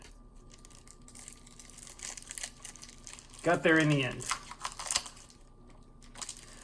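Crinkling plastic shrink wrap being torn off a KeyForge Worlds Collide card deck by hand, close scattered crackles and rips, with someone briefly speaking over the loudest tearing.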